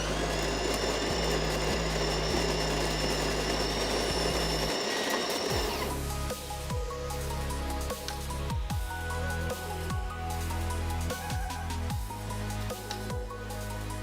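A De'Longhi La Specialista Maestro espresso machine's built-in grinder runs on a double dose with a loud, whirring mechanical drone, then shifts into a rougher, rhythmic grinding churn close by.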